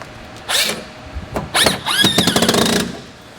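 A tool tightens the mud flap fasteners on a Ford F-Series truck in a few short squealing, rattling bursts, ending in a rapid ratcheting chatter that lasts under a second.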